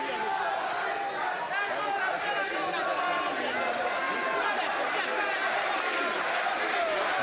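A boxing arena crowd roars steadily and loudly throughout as the Feigenbutz fight goes on, a dense wash of cheering and chatter with commentary running over it.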